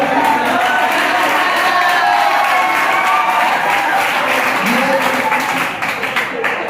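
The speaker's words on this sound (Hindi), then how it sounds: "आपने जो तालियां बजाई है वो दिल से इनके लिए बजाते हैं" Sustained audience applause and cheering at a Hindi kavi sammelan poetry gathering at a Sanskrit college in Sanganer, Jaipur, steady and loud for several seconds before easing slightly near the end.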